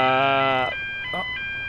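A harsh buzzing fire alarm in the Emergency 4 video game with the Kent modification, a loud tonal blare that cuts off after a moment, followed by quieter high electronic tones.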